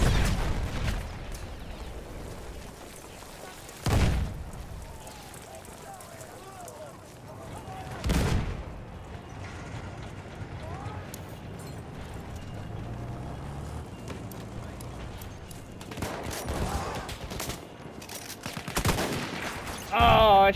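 Distant gunfire and the rumble of a tank sound across a Battlefield 1 battle. A few loud explosive booms stand out against a steady background of combat noise.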